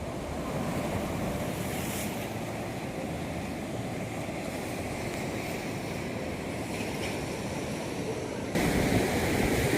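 Sea waves surge and wash around Vattakottai, a Dutch-era sea fort near Kanyakumari, as a steady, close, full roar of surf mixed with wind buffeting, growing louder near the end.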